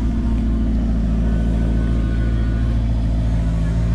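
A rare Maserati's engine holds a loud, steady low-pitched rumble close by, an even idle-to-rev drone throughout with no voices over it.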